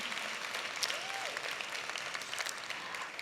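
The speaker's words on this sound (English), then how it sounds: "1 person clapped" Applause from an audience at a business talk, a steady patter of many hands clapping throughout, fairly loud and close, with no speech over it.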